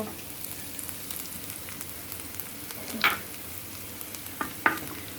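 Cumin seeds sizzling in hot oil, a continuous low crackling hiss with two brief bright clinks of a spoon against the pan, close and moderately quiet with no talking.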